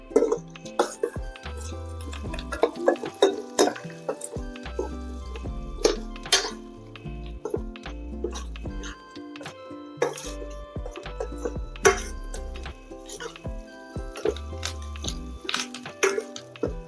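Chicken sizzles and is stirred in a pan for Tamil-style spicy pallipalayam chicken with onion, garlic and chilli, with repeated clinks and scrapes of a spoon against metal over a steady low sizzle.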